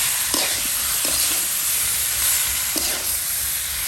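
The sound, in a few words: stirring spices with mustard paste in pan for fish curry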